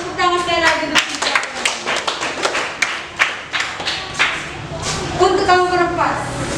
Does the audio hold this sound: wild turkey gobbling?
no